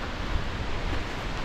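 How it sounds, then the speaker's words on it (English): Steady broadband rushing of a waterfall in Coed Y Brenin forest park, heard from a short distance as a constant even roar with no voices. "that is waterfall number two."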